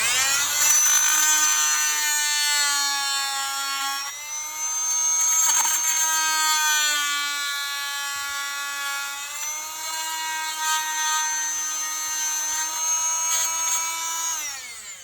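A power tool whines loudly and steadily while cutting access holes in a 1.5-inch PVC channel drain, its high pitch dipping briefly a few times before climbing again, with no talking.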